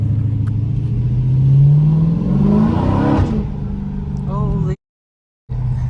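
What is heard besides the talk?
Dodge Scat Pack engine revving in track mode, muffler deleted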